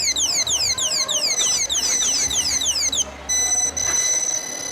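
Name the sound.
anti-theft alarm ringing on display phone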